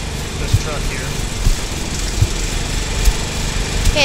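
Tractor engine in the PC game Death Tractor drones steadily at a constant low pitch, with faint periodic thumps through the run.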